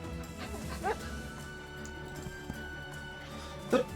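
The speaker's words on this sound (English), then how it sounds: "Who let a dog in here?" A dog barks in the Wargroove strategy game, two short sharp yips spaced a few seconds apart, cutting through a steady game music bed.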